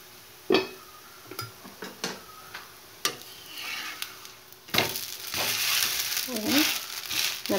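Whole wheat roti cooks on a hot pan with a soft sizzle, scattered light clicks and taps, then a louder, steadier frying hiss toward the end.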